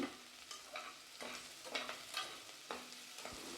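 Onions sautéing in a pan for mutton gravy, a soft, quiet sizzle broken by repeated stirring scrapes and clatters at an uneven rhythm.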